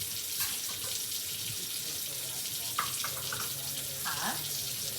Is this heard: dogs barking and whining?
no